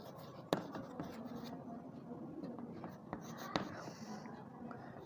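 Pen scratching across paper while a maths equation is written out for an arithmetic progression problem, with soft continuous strokes, a few sharper taps, and faint background murmur.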